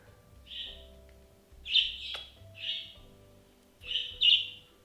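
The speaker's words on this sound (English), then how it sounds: "And this is a little annoying bird." A pet budgie chirps indoors, giving four short, high, close tweets separated by brief pauses in an otherwise quiet room.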